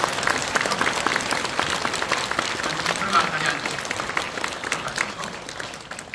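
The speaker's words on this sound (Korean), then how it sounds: "모두 힘찬 박수 한번 해주세요." Church congregation applauding at an elders' ordination service, a dense, steady patter of many hands clapping for several seconds in a reverberant sanctuary, fading slightly toward the end.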